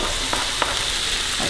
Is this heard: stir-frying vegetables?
yes